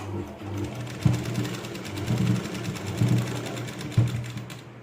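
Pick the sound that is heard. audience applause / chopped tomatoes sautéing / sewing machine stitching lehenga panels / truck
sewing machine stitching lehenga panels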